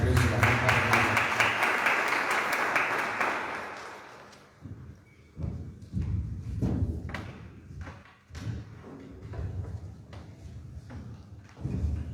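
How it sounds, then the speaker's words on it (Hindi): Congregation applause at a Wednesday Bible study as two speakers are welcomed to the stage, a dense burst of clapping for about four seconds that fades into scattered taps and thumps with voices talking. "तो आइए इन दोनों दासों का बड़े तालियों के साथ हम इस मंच पे स्वागत करें"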